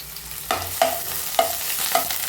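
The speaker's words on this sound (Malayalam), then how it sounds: "വെള്ളമുള്ള കാരണം ചട്ടിയിൽ നിന്ന് പൊട്ടിത്തെറിയൊക്കെ വരുന്നുണ്ട് കേട്ടോ" Ginger-garlic paste spluttering in hot oil in a pan, with a low frying hiss and several sharp pops bursting out at roughly half-second intervals, close and alone.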